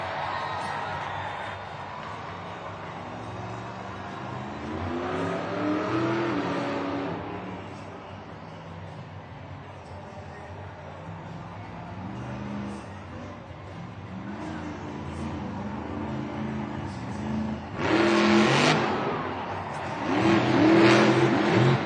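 A monster truck engine at a Monster Jam stadium event in Denver roars and revs in surges, rising and falling under the noise of a crowd, with loud bursts near the end.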